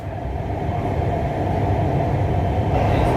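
A Lahore Orange Line metro train rumbles steadily as it pulls away from a stop, a dense low-pitched roar of wheels and motors that stays loud and even throughout, with no voices.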